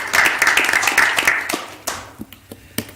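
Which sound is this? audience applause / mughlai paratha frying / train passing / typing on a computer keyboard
audience applause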